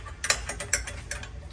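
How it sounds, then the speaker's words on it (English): An adjustable ratcheting wrench tightening nuts on an exhaust midpipe of a BMW G80 M3, giving a quick run of close mechanical ratchet clicks in short bursts, with no voices. "you will want an adjustable ratcheting wrench to do this swiftly here"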